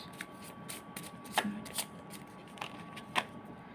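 Tarot cards are shuffled and drawn close by, with a few soft riffles and sharp card snaps spaced irregularly over a low steady hum, no voices.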